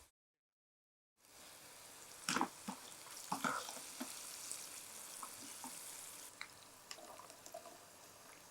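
Ivy gourd (kovakkai) frying in hot oil, a steady sizzle with a few louder crackling bursts and stirring scrapes after a brief silent start, close and moderately loud.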